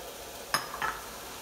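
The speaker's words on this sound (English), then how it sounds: "I'm going to go ahead and add in my potatoes." Potatoes dropped into a soup pot for chicken and dumpling soup, two quick clattering splashes about a quarter second apart over a faint background sizzle, close and fairly quiet, with no talk.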